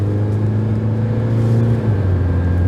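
A Renault Koleos 2.0 dCi 190 Initiale Paris diesel SUV pulls hard at full throttle joining an expressway, its engine drone loud and steady from inside the cabin, pitch shifting slightly as revs change, no talk.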